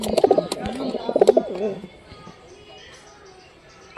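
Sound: pigeons cooing

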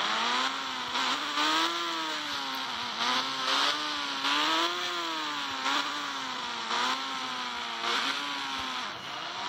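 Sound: motorcycle engine in a 3D bike video game

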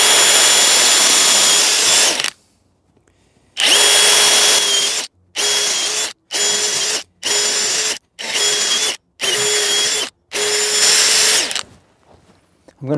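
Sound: drilling wood with 8mm drill bit

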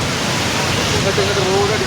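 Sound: floodwater rushing over after heavy rain

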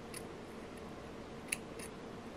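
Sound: scissors cutting thread

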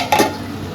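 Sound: carrots frying in a pan for fried rice

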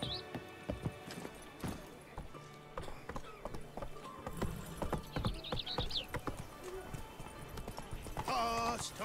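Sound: horse Roach galloping in video game The Witcher 3

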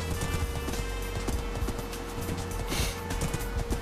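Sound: horse galloping in Minecraft video game

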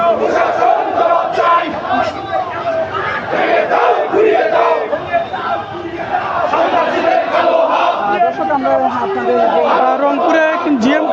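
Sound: Jatiya Party supporters chanting in a protest march

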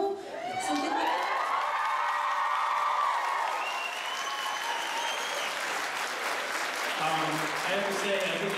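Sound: audience applause at a convention panel

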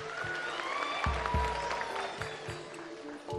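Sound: game show audience clapping

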